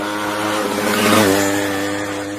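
A motorcycle rides round the wall of a well-of-death show at a fair, its engine droning steadily, swelling and fading with a rising and falling pitch as it circles close by.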